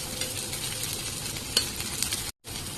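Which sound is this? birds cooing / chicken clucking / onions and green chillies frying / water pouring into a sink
onions and green chillies frying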